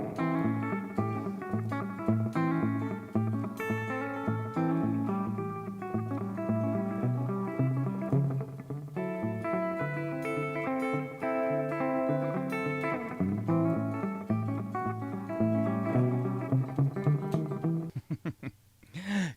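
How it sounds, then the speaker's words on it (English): Electric guitar riffs play through a LEKATO Tank-G effect pedal with slapback delay, a busy run of chords and single notes, each note doubled by a quick echo, continuing steadily before breaking off near the end. "I like a slapback delay sound."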